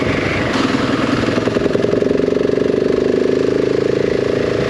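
A KTM 690 SMC single-cylinder motorcycle engine pulls in a high gear, a close, steady, throbbing drone with a rapid pulsing beat that holds even and loud throughout.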